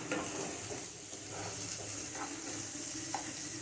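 Onions lightly frying in a pan for a paneer and potato dish give a soft, even sizzle that holds steady throughout, broken by a few faint clinks and stirring scrapes, with no one talking.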